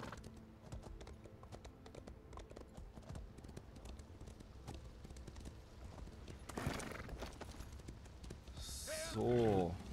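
Rhythmic clip-clop of horse hooves in Elder Scrolls Online trots steadily, with a voice talking over it and a short neigh-like burst near the end.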